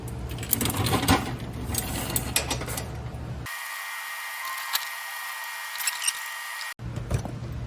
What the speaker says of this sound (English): we'll go ahead and tighten up the bolts on the caliper